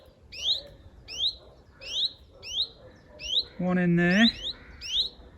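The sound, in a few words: chiffchaff fledglings calling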